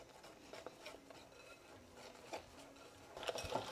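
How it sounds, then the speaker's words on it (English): Eggs and plain flour whisked together in a bowl for Yorkshire pudding batter, faint rhythmic scraping and tapping strokes that grow a little louder toward the end, with no talking. "I'm going to whisk until it's nice and smooth"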